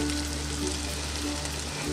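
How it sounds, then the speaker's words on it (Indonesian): Potato cheese sticks frying in hot oil over medium heat, a steady close crackling sizzle with fine bubbling, continuous and fairly loud with no voices. "Kita masukkan ke dalam api sedang minyak yang sudah dipanaskan."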